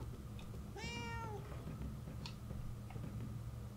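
In the video game Murdered: Soul Suspect, a cat in a church gives one clear rising-and-falling meow, followed by a few faint ticks and small clicks over a quiet background.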